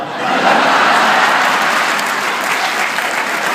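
Audience at a Hindi kavi sammelan poetry gathering in Canada applauds, a dense, steady wash of many hands clapping at once, loud and sustained throughout without talk.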